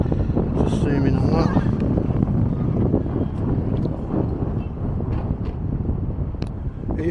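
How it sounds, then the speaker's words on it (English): Gusty wind buffets a microphone outdoors beside a police station, a rough low rumble that persists throughout while someone talks. "It is quite windy today"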